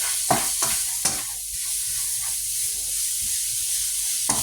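Ground beef fries in a pan with a constant sizzling hiss. A spoon scrapes and stirs it now and then, making sharp clacks, at moderate loudness with no speech.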